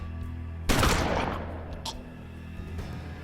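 Gunfire from the turn-based Western video game Hard West: a single loud, sudden burst of shots that decays into a lingering echoing tail, with faint background game ambience and no talk.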